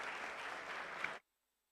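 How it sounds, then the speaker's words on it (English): Audience applause for panelists at a 2023 conference session, a steady dense clapping that fills the room for about a second and stops abruptly. "A huge round of applause once again to our esteemed panelists."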